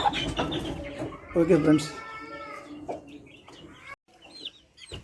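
Chickens of a fighting bird line, a brood of four three-month-old chicks, cluck and chirp near the microphone in a farmyard, with someone talking over them throughout.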